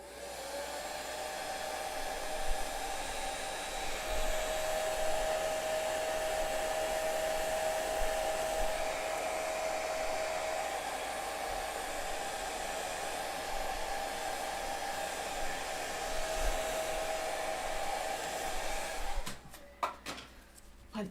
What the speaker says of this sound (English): I'm gonna blow dry a second.